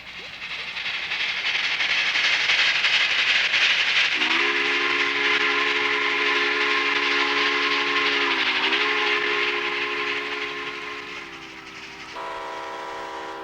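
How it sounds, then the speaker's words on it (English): A Russian Decapod steam locomotive hauling an eastbound freight rumbles past steadily while its steam whistle blows long, sustained blasts over the running noise. "a Russian decapod heading an eastbound freight"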